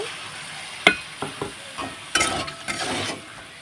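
A spice mixture being stirred in a pan after a splash of water, sharp scrapes and clanks of a utensil against the pan over a soft low sizzle, several separate knocks with short pauses.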